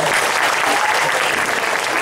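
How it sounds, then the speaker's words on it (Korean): Steady, dense applause from an indoor audience at a gathering, loud and continuous throughout without pause. "한번 박수로 한번"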